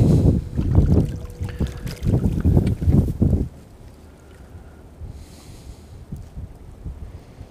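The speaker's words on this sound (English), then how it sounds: "This wind's starting to pick up" Wind gusting across open water near a fishing boat on a January outing, with heavy low buffeting on the microphone for the first few seconds that drops to a softer steady rush.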